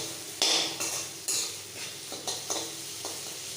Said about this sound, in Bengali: গ্রেট করা আদাটা দিয়ে এটাকে আমি ভালো করে নাড়াচাড়া করব। হিঙের সঙ্গে আদাটা নাড়াচাড়া করলে একটা খুব সুন্দর গন্ধ উঠবে।